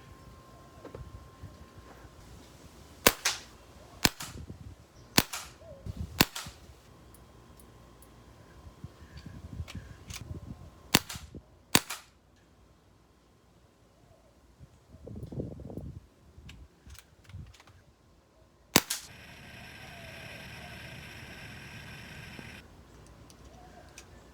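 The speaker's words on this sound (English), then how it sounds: "We'll go with the RWS Meisterkugeln. All right, we shoot a couple sighters." Sighting shots from a Beeman 1330 Raider .177 PCP air rifle firing RWS Meisterkugeln pellets: several sharp, close cracks spaced a few seconds apart over a quiet room, with faint handling noises between them.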